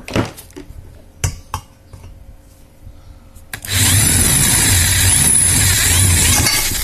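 A few sharp knocks and taps, then a loud, steady Tekiro RYU RDR 10-3 RE 10 mm power drill whines and grinds continuously through steel, close up.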